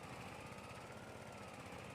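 A tractor engine in Farming Simulator 22 labours under load with a steady, rough, pulsing chug that stays even and continuous throughout, heard faintly and without any talking.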